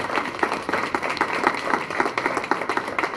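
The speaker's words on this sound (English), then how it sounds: "give yourselves a round of applause for making it out this morning" Morning audience applauding at the grand opening of a community health center, a moderately loud, fairly thin patter of claps with uneven peaks, no voices over it.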